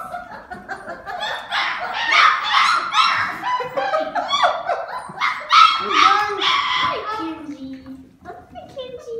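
Great Dane puppies bark, yip and whimper in a crowded room, with the high yelps overlapping continuously and staying close, while people talk and laugh throughout.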